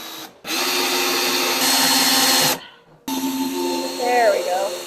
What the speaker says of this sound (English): take your other drill and drill the hole first, all the way through